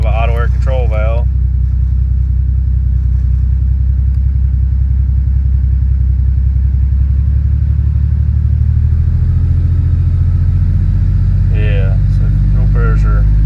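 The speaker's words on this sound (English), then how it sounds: "So when this thing's cold, it runs super rich." Toyota Supra engine idling cold at low throttle and running rich, a steady low rumble that holds throughout, with voices talking over it near the start and again toward the end.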